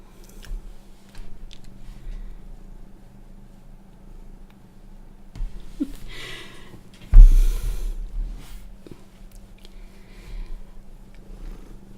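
A house cat purrs softly and continuously up close, a low rumbling drone with faint rustles and one brief louder bump partway through, and no voices.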